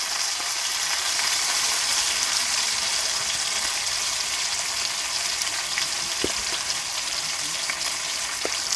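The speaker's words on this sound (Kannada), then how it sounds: "ಇನ್ನೊಂದು 5ರಿಂದ 7 ನಿಮಿಷ ಫ್ರೈ ಮಾಡ್ರೆ ಸಾಕ್ರಿ" Komle fish sizzling and frying in a pan, a steady dense hiss of hot oil running without a break throughout, with a few faint clicks of utensils and no talking.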